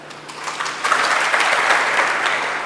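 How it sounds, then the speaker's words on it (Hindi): Clapping from an audience at a Hindu religious discourse on the Ram Katha builds quickly into a dense, sustained round of applause close by, with no talk over it. "शाबाश शाबाश, ताली बजा दो।"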